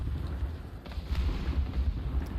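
Grenade blasts in Apex Legends roll out as a continuous low, rumbling boom with heavy bass, swelling slightly around the middle and sustained through the whole moment, with no speech.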